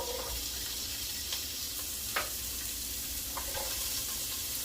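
Chopped carrots sizzle and crackle in hot oil in a pot at the start of a chicken noodle soup, a steady close frying hiss with small pops and occasional stirring clatter.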